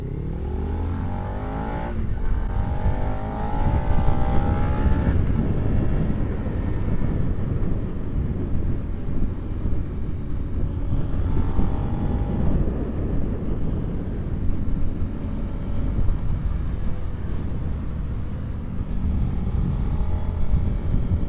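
A loud Honda Civic with a raspy, heavily modified exhaust drones steadily nearby, its rough engine roar sustained for about twenty seconds with slight rises as it moves past.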